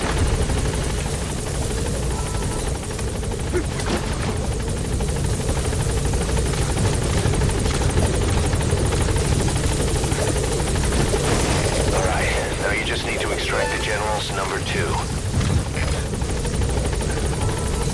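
Helicopter from Metal Gear Solid V hovering near a landing zone, a steady loud rotor drone throughout, with radio voices talking over it.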